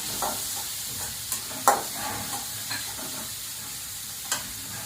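Chopped onion and curry leaves fry in hot oil, giving a steady close sizzle broken by several sharp stirring scrapes and clinks, with no talking.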